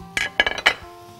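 A utensil clinks against a pan while shrimp and sauce with lemon and butter are stirred, three or four quick metallic knocks and scrapes close by, then quiet.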